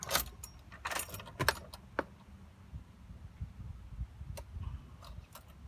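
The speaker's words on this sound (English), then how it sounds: "pop the key in this thing and fire it up" Keys jangle sharply as they go into the ignition of an old vehicle: close metallic rattles and clicks in bursts, then a low background rumble with a few more faint ticks.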